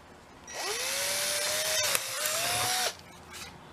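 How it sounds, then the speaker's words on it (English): A power drill with a large bit whines up and bores steadily through wood for a couple of seconds, close and loud, then stops abruptly. "I'm going to drill right through that."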